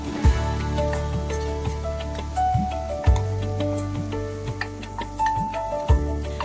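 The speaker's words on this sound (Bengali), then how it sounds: "এবার 1 কাপ মেথি পাতা দিয়ে কিছুক্ষণ নাড়াচাড়া করুন।" Fenugreek leaves and peas fry in a pan, a steady low sizzle under a run of light clicking and tapping from the utensil, with a few louder knocks against the pan, no talking.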